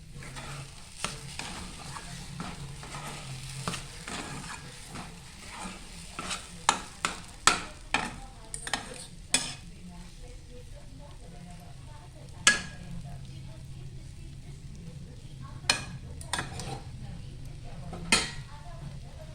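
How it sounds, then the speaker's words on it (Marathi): A spoon stirs semolina sheera in a pan, with soft scraping and occasional sharp clinks of metal against the pan, irregular and close, over a faint background hum. "आणि पुन्हा एकदा आपण त्याला ढवळून घेऊ."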